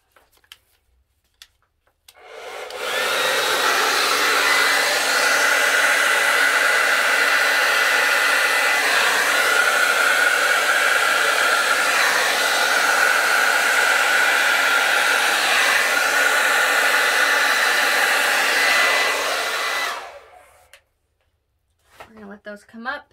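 Hair dryer blowing across wet acrylic paint, a loud steady whooshing roar that starts abruptly, holds for about seventeen seconds, then cuts off into near silence.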